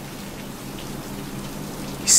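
Steady rain from a One Piece anime episode, a soft continuous patter holding at an even level throughout, with a louder burst of hiss rising right at the very end.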